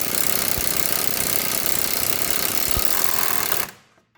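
Impact gun rattling loose the sway bar link nut on a 2007 Subaru Forester, a loud continuous hammering buzz close by that stops abruptly near the end.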